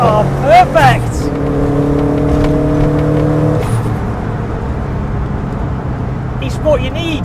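A 4x4 VW Golf GTI Mk2 fitted with a Subaru drivetrain rumbles loudly with rising engine tones from inside the car, while people talk over it.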